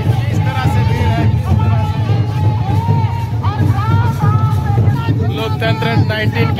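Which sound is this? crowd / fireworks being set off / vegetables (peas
crowd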